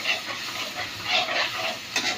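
Tomatoes roasting in a pan on the stove give off a steady sizzling, steamy hiss with small swells, close and moderately loud, with no voices over it.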